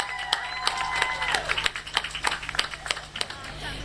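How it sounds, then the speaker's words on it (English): Crowd applause at a Black heritage marker unveiling ceremony in Perth Amboy, a burst of steady clapping from a gathered audience that thins into scattered claps, with a voice briefly heard over it. "Let's give them another big round of applause."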